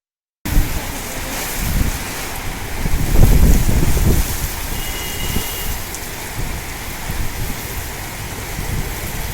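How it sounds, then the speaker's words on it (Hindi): Heavy thunderstorm rain pours down under strong winds, making a loud, constant hiss and patter with gusty rumbling swells that peak midway. No one speaks. "अचानक तेज हवाओं, गरज और चमक के साथ शदीद बारिश ने आम जिंदगी दरहम बरहम कर दी"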